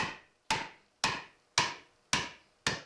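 Traditional hand tool, an axe, chopping into a wooden log while carving a janggu drum by hand. Six sharp, loud strikes land at an even, steady rhythm, each ringing out briefly, with no talking.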